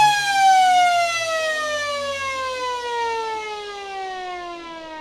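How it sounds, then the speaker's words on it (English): A long, loud siren wail sounds at the close of an Australian rules football match between the Lions and Eagles, a steady multi-toned blast that slowly glides downward and fills the whole stretch with no talk over it. "There's the siren."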